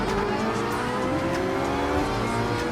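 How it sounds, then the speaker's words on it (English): Race car engine in Gran Turismo Sport, on a Ferrari event, revving hard under acceleration, a steady loud whine with layered engine harmonics and faint tire noise throughout. "sounds like it's taking a lot of horsepower to be able to do some more acceleration to speed up quickly"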